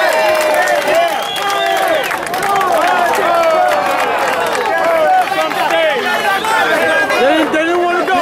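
A large outdoor crowd at an Old Timers Day memorial gathering applauds and cheers steadily through a balloon release, with lively chatter and shouting voices mixed into the clapping throughout.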